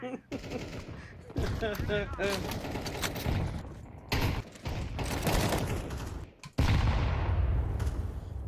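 Mag-7 shotgun fire in a video game, with loud close blasts and mechanical clatter amid dense game noise and intermittent in-game sounds.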